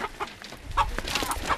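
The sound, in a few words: chicken clucking while being caught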